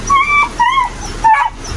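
A dog left alone in the rain gives three short, high, whining whimpers in quick succession, close by, over faint background noise.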